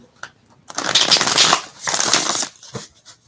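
Close card shuffling in two dense riffling bursts, with a few light taps before and after.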